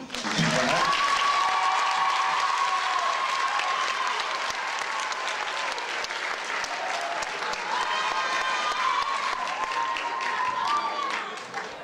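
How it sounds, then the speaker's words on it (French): Sustained applause from an audience at a French middle school show, thick continuous clapping at full volume from start to finish, with faint tonal sounds threaded underneath. "Donc vous pouvez déjà vous applaudir vous-même."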